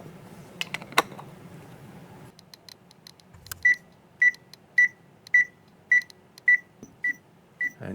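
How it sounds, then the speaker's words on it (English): Radiation tester alarm sounding once the count passes 100 CPM, a run of eight evenly spaced sharp electronic beeps after a few quieter clicks and taps. "You can hear that alarm, and you see once it hit 100 CPM, the alarm went off"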